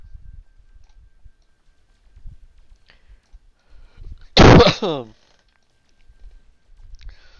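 Gunfire in the space game No Man's Sky sounds as one sharp, loud blast that cuts through an otherwise quiet stretch with only faint low rumbles around it.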